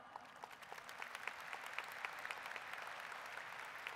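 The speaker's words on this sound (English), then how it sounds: "Please join me in a round of applause." An audience at the Galena Park High School Class of 2019 graduation ceremony applauding in a steady, even patter of many hands heard from a distance, with no talk over it.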